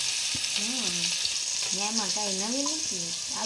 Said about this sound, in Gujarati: પછી આ બધું સડવા દેવાનું